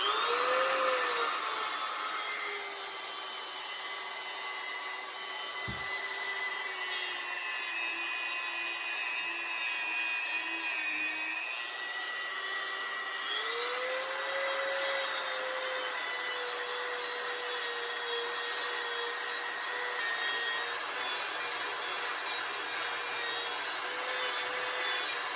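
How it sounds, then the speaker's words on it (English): A small, worn wire wheel cleans bicycle crank and bearing parts, giving a thin, whining rotary hum that rises and falls in pitch as it rubs against the metal, close and continuous. "I've got a little wire wheel for that."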